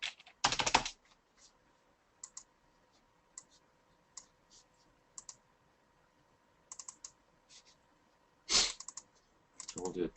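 Computer keys click in short, scattered bursts of typing, some single taps and some quick runs, close and fairly quiet against a low electrical hum.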